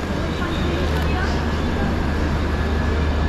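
Train at an Indian railway station platform, a loud, continuous low rumble and broadband roar that holds steady throughout, with voices talking over it.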